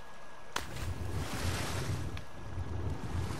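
A character plunges into water in the video game Ark, with a continuous washing, surf-like rush and a couple of sharp splashy hits over a low rumbling background, steady and fairly full.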